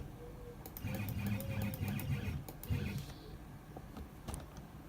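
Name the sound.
EleksMill CNC machine moving along the z-axis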